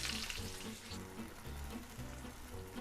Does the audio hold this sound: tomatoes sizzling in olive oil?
yes